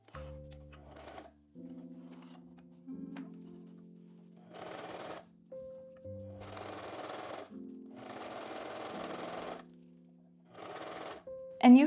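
A domestic sewing machine stitches a fabric makeup bag in several short bursts separated by pauses, the runs growing longer toward the end, with a steady tonal hum underneath.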